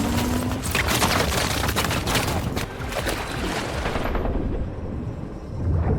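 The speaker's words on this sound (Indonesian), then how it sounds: "karena pihak Rusia terus menembaki ke arah mereka" Heavy gunfire in a naval battle scene from the submarine film Hunter Killer: dense, continuous bursts of shots and booms roar loudly throughout before the sharpest crackle drops away near the end.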